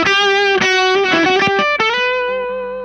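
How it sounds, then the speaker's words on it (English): Electric guitar played through a PastFX chorus ensemble preamp into an amp's distorted channel, a loud, sustained chord with rich overdriven harmonics and a few restruck notes, ringing out and slowly fading at the end. "So this is now just going into the dirty channel"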